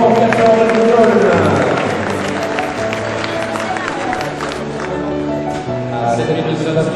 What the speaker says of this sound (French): Bon applaudissements pour Castor de Boulogne.